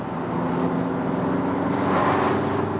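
A VW Beetle with a 110 hp diesel engine accelerates from about 75 km/h on a motorway, heard from inside as a steady, rising engine drone over road and wind noise.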